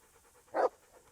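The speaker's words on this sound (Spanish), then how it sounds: "es verdad que he dejado aquí a mi perro" A dog in the video game Kingdom Come: Deliverance lets out a single quick panting huff, short and soft against a near-silent background.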